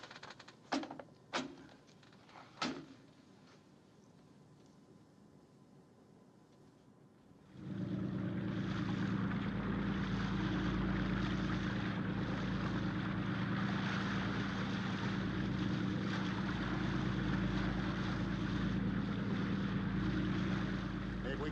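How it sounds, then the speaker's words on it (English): A propeller aircraft approaching over the sea: after a few sharp clacks, a steady droning engine hum swells in and holds loud and constant, with faint voices underneath. "Contact plane approaching on schedule."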